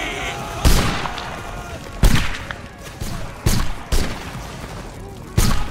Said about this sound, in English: Reform right here, shoot the Spanish line again.